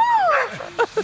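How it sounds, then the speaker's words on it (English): A dog barks and yips close by while cows are loaded onto a trailer, a few short sharp yelps after a whining tone, with a faint voice in the background. "We got dogs barking"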